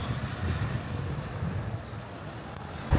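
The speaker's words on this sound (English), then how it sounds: "It's not only snowy, it's fucking windy." Low, rumbling wind during heavy snowfall in Moscow buffets the microphone in a steady roar, with faint background noise and a brief louder gust at the end.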